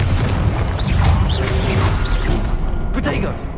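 Confringo blasting spell cast in the video game Hogwarts Legacy, heard as a run of booming, crashing blasts with whooshes over a constant roar of game effects and music, spaced through the stretch.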